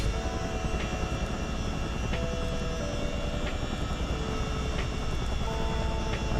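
Twin-rotor MilTech CH-47 Chinook helicopter engine in Microsoft Flight Simulator, a steady dense drone with faint periodic blade thumps, loud and continuous without speech.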